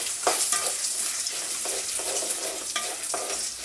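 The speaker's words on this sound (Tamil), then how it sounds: "கடலைப்பருப்பு உளுத்தம்பருப்பு போட்டுக்கோங்க. காஞ்ச மிளகாய் போட்டுட்டு நல்லா ஃப்ரை பண்ணுங்க" Chana dal, urad dal and dried chillies frying in oil give off a steady, close sizzling hiss, broken by a few short scraping stirs against the pan.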